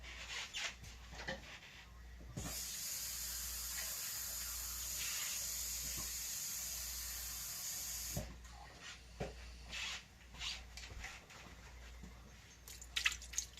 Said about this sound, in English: Just pour your water in there just like that.